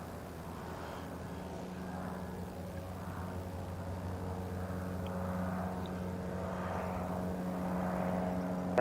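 A United airliner flying overhead, a faint steady engine drone that swells slowly and grows a bit louder toward the end, distant and alone.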